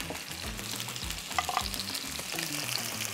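Two steaks frying slowly in a pan give a steady, close sizzle with crackling and spattering throughout, with no voices.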